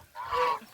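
A single goose honk on a farm, short, nasal and fairly faint, heard alone.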